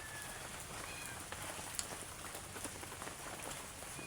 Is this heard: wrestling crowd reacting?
no